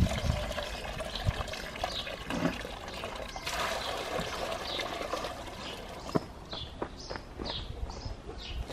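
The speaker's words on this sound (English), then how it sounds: "So it was sieved twice, one through the thicker sieve, one through the thinner sieve." Homemade clay slurry poured through a fine-mesh sieve gives a steady wet trickle and splash, with occasional soft knocks and drips near the end.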